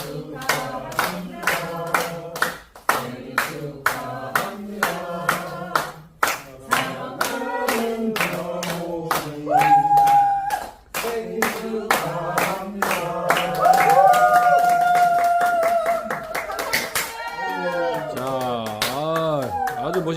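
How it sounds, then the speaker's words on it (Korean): At a birthday celebration for a singer, a crowd claps in a steady rhythmic beat while voices sing the birthday song over it, the claps sharp and close throughout. "우리 이제 모두 박수를 시작하면서 생일 파티 노래 시작"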